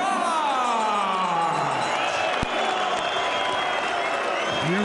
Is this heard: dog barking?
no